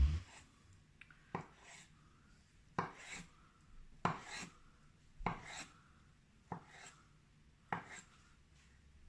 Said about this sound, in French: L'avocat, on va le couper en longueur.